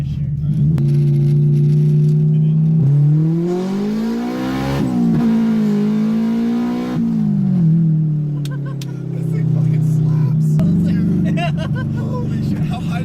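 Car engine revving hard through an acceleration pull on a light, fast car, the harmonic pitch climbing then dropping and climbing again, loud and close with occasional voices underneath.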